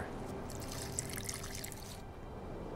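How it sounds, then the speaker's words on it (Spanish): Water being added in The Witcher 2 video game, a soft trickling pour that starts after a brief pause and runs for about a second and a half before cutting off, fairly faint and close. "y si yo empiezo con añadir agua"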